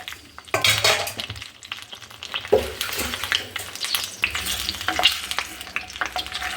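Potato pieces frying in melted butter and ghee while a spoon stirs them around the pan, steady sizzle broken by scraping and occasional clinks of utensil on metal, close up with no talking.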